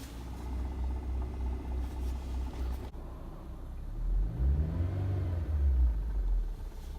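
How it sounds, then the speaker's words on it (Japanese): Suzuki Swift, fourteen years old, idles in neutral with a transmission fault, giving a low rumbling engine drone with a faint knocking rattle, close and steady, swelling slightly in the second half. "このコトコト言ってんのが、クラッチを切ったら言わなくなります"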